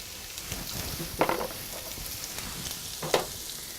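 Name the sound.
onions sauteing in olive oil in a skillet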